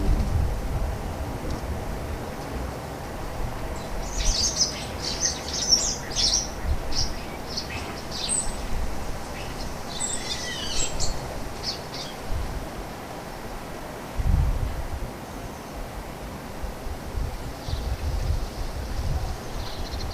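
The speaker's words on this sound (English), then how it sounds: "The audacious starlings keep everyone alert as they mob the feeder again." Starlings mobbing a bird feeder, bursts of high chirps and squeaky calls scattered through a steady outdoor noise bed, moderately close, with occasional low thumps and rustles.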